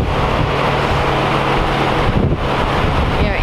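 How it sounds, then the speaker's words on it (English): Strong wind buffets a microphone outdoors beside a semi truck, producing a constant loud low rumble and roar with slight gusty fluctuations and no clear talk. "it's really getting windy here"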